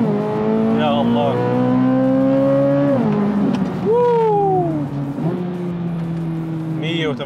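A 2023 Chevrolet Corvette Z06 engine pulls hard under full throttle, its loud tone climbing steadily and dropping sharply at two gear changes before rising again, close and dominant throughout.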